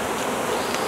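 Bees buzzing around a delivered package on a sunny early morning, a steady close drone lasting about a second with no voices.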